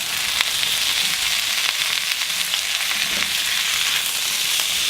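Broccoli and garlic fry in oil in a pan, a loud, dense, steady hiss of sizzling close up with faint crackles and no voices.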